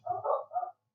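Pet dogs bark indoors in three quick, loud, close woofs in a tight rhythm, then go silent.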